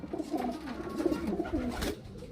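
Highflyer pigeons coo softly in a low, murmuring burble, several close but quiet calls running together over a couple of seconds.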